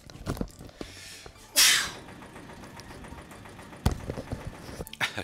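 One loud, close sneeze breaks over a steady low engine-like hum from game sounds, with scattered clicks before and after.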